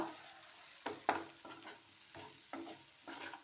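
Capsicum frying with chilli powder in a pan, a soft continuous sizzle broken by several distinct scraping stirs of a spoon at irregular intervals, close and moderately quiet with no voices.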